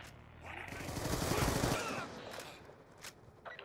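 SMG gunfire in the Black Ops 2 video game: a rapid, rattling burst of automatic fire swelling to a peak mid-clip then tapering, followed by a couple of sharper isolated reports.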